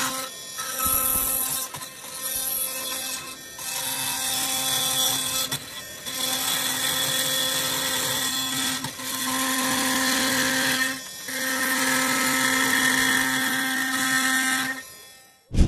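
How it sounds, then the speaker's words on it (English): A Milwaukee Nitrous Carbide blade cuts through screws in a steady, loud, high-pitched metallic whine with a tonal hum. It breaks into several sustained passes separated by brief dips and ends in a sharp final hit. "The Milwaukee Nitrous Carbide blade can be used 2 times longer than similar tools, letting you cut through hundreds of screws."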